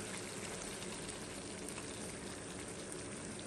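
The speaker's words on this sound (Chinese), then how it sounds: "把这肉再煎糊一点" Thin slices of pork fry in a pan at a roadside camp in an abandoned tin shack along the Sichuan-Tibet 318 highway, a steady, dense sizzle that stays even and soft throughout, with no talking.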